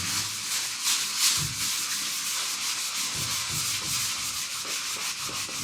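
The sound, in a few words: sanding paint on a model airplane wing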